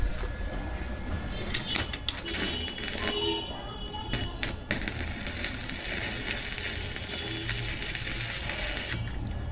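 An inverter welding machine set to 100 amps arc-welds metal, producing a continuous harsh crackling and sizzling with sharp pops. The sound is close and steady throughout.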